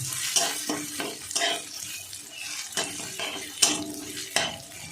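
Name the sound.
rice being fried in ghee while stirred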